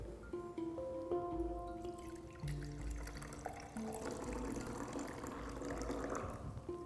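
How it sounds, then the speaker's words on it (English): Clear, treated water poured from one beaker into a fresh beaker during an eco water-cleaning process, a steady close pour with a rising, filling pitch and a few gurgles, lasting several seconds with no talk over it. "I am going to decant the clear liquid into a fresh beaker."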